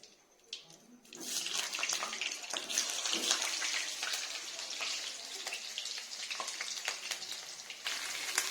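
Potatoes slipped into hot oil tempered with bay leaf set off a sudden, steady sizzle after a near-silent second, the hissing frying continuing close and fairly loud with small crackles and pops throughout.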